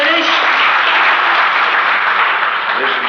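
A concert crowd at a midnight show on August 23, 1972 applauds in a dense, steady wash of clapping that holds evenly throughout.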